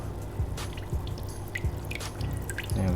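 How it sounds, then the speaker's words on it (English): Water dripping from a small valve on a drip line acclimating new discus fish, a steady series of soft close plinks and drops against a constant background hum. "See, it's just dripping like that."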